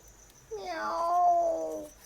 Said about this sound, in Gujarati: જો હજી બોલી મીંદડી